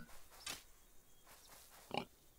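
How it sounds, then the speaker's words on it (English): A pig in the video game Stoneshard gives two short grunting oinks, the first near the start and the second near the end, against quiet ambient game background. "Oh, hey there, pig."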